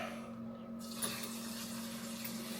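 Hot water runs from a faucet into a sink with a steady rushing stream and a faint low hum underneath, no talking.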